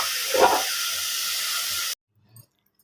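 A pot of curry bubbles and hisses steadily with steam for about two seconds, with a brief louder burst near the start, then cuts to near silence with one faint soft knock.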